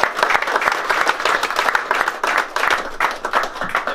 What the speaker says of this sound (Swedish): vi ger ledarna, vi ger spelarna, vi ger serviceteamet en varm applåd gemensamt